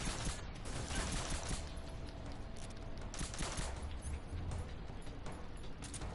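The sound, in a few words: AK-47 gunfire in the video game Metal Gear Solid 3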